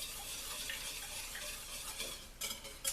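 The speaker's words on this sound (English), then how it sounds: "Now I'm going to stir this because I don't want lumps." A spoon stirs milk into a flour and butter roux in a pot, making a steady soft scraping and swishing with faint clinks against the pot, close and continuous for a few seconds.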